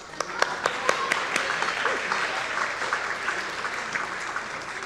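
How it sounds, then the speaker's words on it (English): A church congregation at a Christmas pageant claps along, a run of sharp, irregular claps over a murmur of voices and room noise, fairly close and moderately loud. "Everybody clap your hands."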